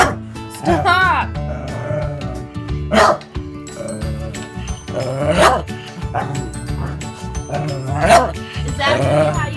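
A dog barks repeatedly and loudly at close range, mixed with yips and whimpers, while someone talks throughout.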